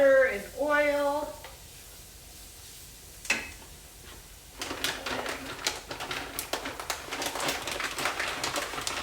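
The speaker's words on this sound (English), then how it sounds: "We're going to add it to our pan and cover it with the butter and oil." Risotto ingredients land in a pan of hot butter and oil and begin to sizzle, a steady crackling hiss that follows a brief stretch of speech and a knock against the pan.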